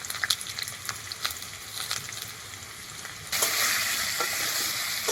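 Rohu fish curry ingredients frying in a pan after salt and turmeric go in, a constant close sizzle with light stirring scrapes that suddenly swells into louder, denser crackling partway through.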